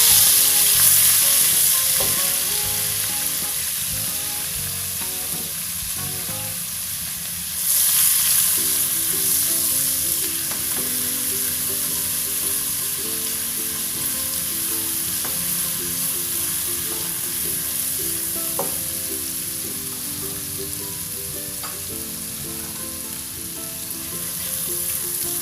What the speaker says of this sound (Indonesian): Ini saya udah manasin minyaknya, masukin bumbunya ya, terus diaduk-aduk sampai matang dan harum.